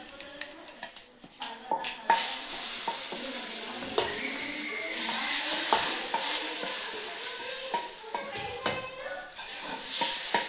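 A tadka tempering for brinjal karam sizzles and spits in hot oil in a pan while being stirred, with scraping and clinking spoon strokes over a continuous frying hiss.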